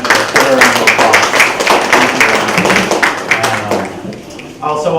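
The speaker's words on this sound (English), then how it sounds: "Give a round of applause." Audience applause at a neighborhood community launch event on Shirley Ave, a burst of close, fairly loud clapping from a modest crowd that thins out after a few seconds, with voices mixed in.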